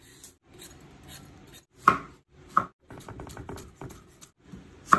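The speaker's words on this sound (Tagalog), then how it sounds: "So chop onion" A knife chops onion on a cutting board in irregular strokes, with a few sharp, loud knocks among softer cuts, close and alone.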